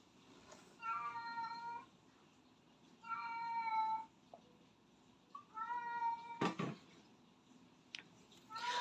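A cat meows three times in drawn-out cries, spaced a couple of seconds apart, fairly close in a quiet room, followed by a few sharp knocks.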